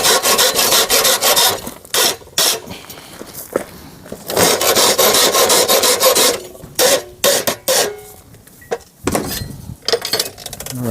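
A farrier's hoof rasp scrapes across a horse's hoof during trimming and shoeing, loud close rhythmic rasping strokes in bursts with short pauses between them.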